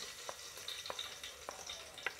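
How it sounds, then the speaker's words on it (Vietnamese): Onions sizzle in a little hot oil in a cooking pot, a soft steady frying hiss broken by a few faint crackling pops. The sound is quiet and close, with no talking. "đổ vào nồi một ít dầu, mình bỏ hành vào khử dầu cho thơm ha."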